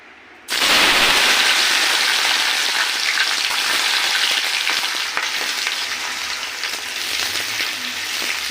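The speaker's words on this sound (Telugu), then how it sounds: "ఇప్పుడు ఆయిల్ హీట్ ఎక్కినాక మనం దొండకాయలు దాంట్లో వేసుకున్నాము, కట్ చేసినవి." Cut ivy gourds hit hot oil in a pan and set off a sudden, loud, steady frying hiss that carries on densely with faint crackles throughout.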